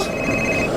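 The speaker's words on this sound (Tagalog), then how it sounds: "Ang nawag na cellphone." A cellphone rings with a steady electronic tone lasting just under a second, heard indoors over a low background hum with no talking.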